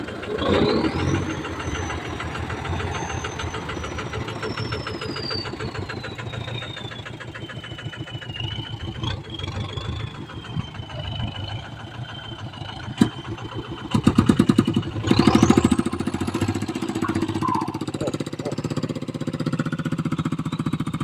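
A diesel tractor engine chugs loudly and continuously nearby, its exhaust pulsing, with a brief revving surge near the end.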